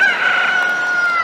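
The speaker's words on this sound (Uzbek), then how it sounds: "Ertalab sizlarni xo'roz uyg'otadi." A rooster in a village crows once in a long, drawn-out call, loud and close, with little else audible beneath it.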